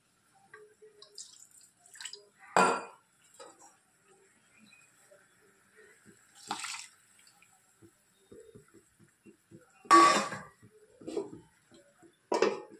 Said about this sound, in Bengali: এটা একটু ধুয়ে জলটা দিয়ে দিই।